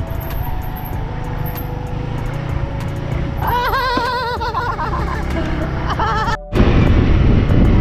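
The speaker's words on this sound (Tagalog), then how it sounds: "Maraming kambing." Goats bleat at a busy roadside in the Philippines ahead of a town fiesta, with a wavering bleat standing out in the middle over traffic and engine noise. A vehicle roars close by near the end.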